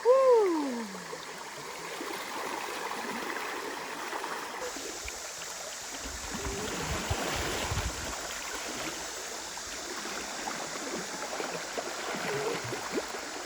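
Small stream of water flowing at a mill in a valley, a soft continuous trickle and babble, with a brief whistling sound at the start.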